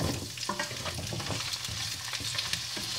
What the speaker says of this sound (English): we're going to add our potato.